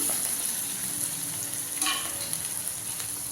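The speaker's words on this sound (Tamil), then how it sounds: "இதை கொஞ்சம் எண்ணெயில் அப்படியே வதக்கிக்கலாம்." Ground chili, coriander, turmeric and curry masala powders sauté in hot oil for an egg curry, giving a steady close sizzle and frying hiss throughout with faint stirring and no talk.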